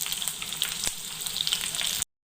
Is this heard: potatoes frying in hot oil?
yes